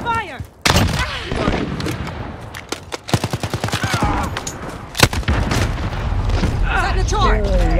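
Gunfire in the video game Call of Duty, rapid bursts of machine-gun fire and sharp shots rattling loud and close, with booming blasts and a sharp crack midway, while voices talk over the firing.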